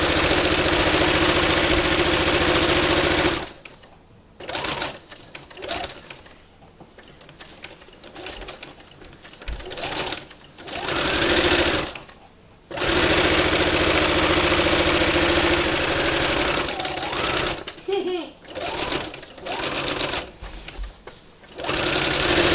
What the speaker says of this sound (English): go ahead and sew your seam